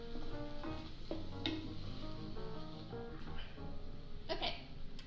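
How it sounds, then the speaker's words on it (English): Flour being stirred into melted butter in a pot for a Cajun roux, a soft scraping stir over a light sizzle with a few utensil taps against the pan, close and continuous. "I've got my 3 tablespoons of flour here. I'm going to put in one at a time and stir it really well"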